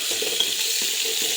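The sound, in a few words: crushed garlic and onion frying in hot oil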